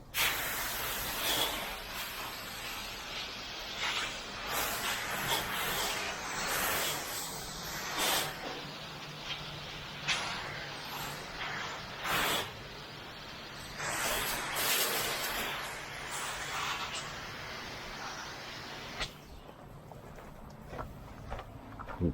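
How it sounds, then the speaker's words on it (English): A hose sprays soap and bleach onto a roof in a long, steady hiss broken by brief louder bursts and pauses as the spray moves across the surface. "Work my way out, spray my way out."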